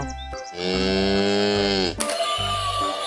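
A toy cow lets out a long, loud electronic moo with a steady droning tone, followed by a second mooing phrase after a brief break, with no talk over it.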